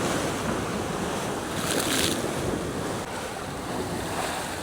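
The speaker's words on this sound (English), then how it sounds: "this point here, where the two harbours meet each other, these seas are some of the most treacherous in the world" Sea waves where Valletta's two harbours meet in Malta, a continuous rushing surf close by with wind buffeting the microphone and a brief louder splash burst.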